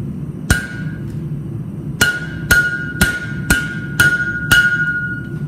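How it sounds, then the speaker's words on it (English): Sharp metallic hammer blows on hot spring steel, making a spring fuller: one, then a steady run of five strikes about half a second apart, each ringing briefly over a low background hum. "Hammer it flush."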